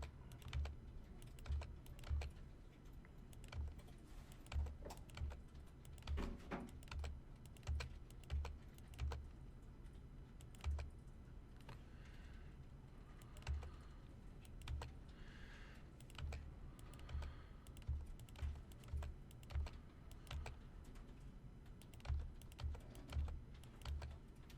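A computer keyboard tapped steadily, with repeated tab key presses giving a regular pattern of soft, close clicks over a quiet room background.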